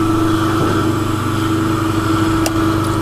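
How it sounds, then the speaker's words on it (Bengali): A 1 HP single-phase capacitor start induction motor running steadily, with a loud, constant mechanical hum and a strong steady tone, close by and unbroken, plus a brief faint click near the end. "হ্যাঁ, মোটরটা চলেছে।"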